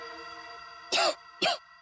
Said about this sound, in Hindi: ये कोई आम खांसी नहीं, टीबी वाली खांसी है